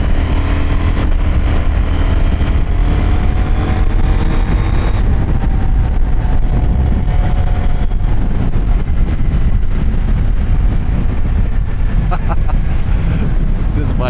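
A Husqvarna Svartpilen 801 motorcycle engine drones and revs while being ridden, rising in pitch early on, heard close under heavy wind buffeting for the whole stretch.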